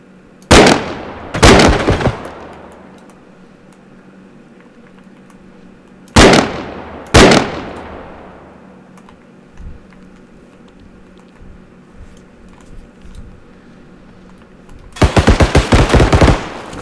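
Loud, sharp SVD rifle shots in the realistic shooter game BodyCam, firing in spaced bursts of two or three cracks with trailing echoes, a pause between groups, then a dense rapid volley near the end.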